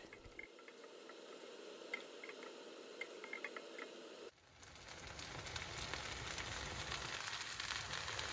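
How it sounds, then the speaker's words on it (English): Faint crackling and sizzling of noodles in a hot wok, with light clicks and scraping, growing into a fuller, steady sizzle partway through. "Listen to all that crackling and sizzling."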